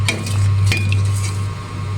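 Utensil scraping and clinking against a cooking pot while mixed vegetables are stirred for bulanglang, a few sharp metallic ticks over a steady low simmering hum, close and fairly loud.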